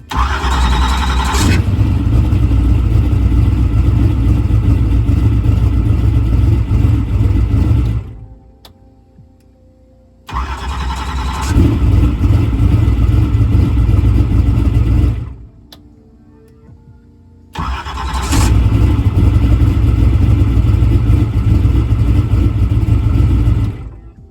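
A car engine with the ignition on cranks and struggles to start across three long attempts, each a loud, sustained churning roar broken by short near-silent pauses.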